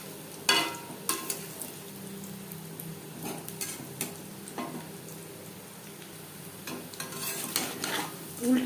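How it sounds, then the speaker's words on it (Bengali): Kadhi pakoras frying in a pan, a gentle sizzle broken by intermittent scrapes and clinks of a utensil turning them, with no talking. "উল্টে পাল্টে প্রথম ব্যাচের পাকোড়া ভাজা হয়ে গেছে।"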